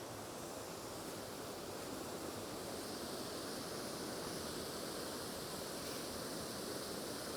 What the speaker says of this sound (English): I want to check the river. We can hear it now already.